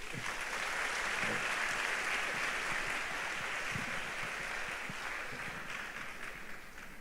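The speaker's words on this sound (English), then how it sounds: "let's clap for him" Steady applause from a crowd, a dense wash of clapping that holds for several seconds and tapers slightly toward the end.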